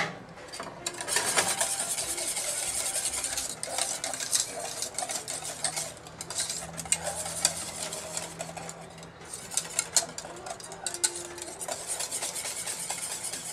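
Chocolate pudding stirred in a pot off the heat, with continuous close, rasping spoon strokes scraping the bottom in an uneven rhythm, and no talk.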